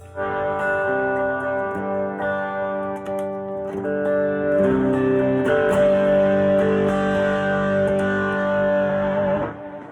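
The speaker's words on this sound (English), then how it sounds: "I stack the distortion on top of, you know, the drive and the chord tone" Electric guitar through stacked drive and distortion pedals plays sustained, buzzing chords and notes, thick and saturated, ringing on continuously without any talking.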